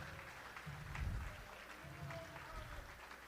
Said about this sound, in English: How about one big round of applause for all of the future Eagles